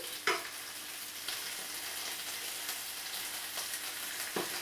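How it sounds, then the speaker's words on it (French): Lamb chops frying in butter in a pan, a steady close hiss and crackle of sizzling fat with a few sharp pops and small clatters of handling, no voices. "je dépose toutes mes côtes d'agneau dans du beurre. On va les dorer de chaque côté."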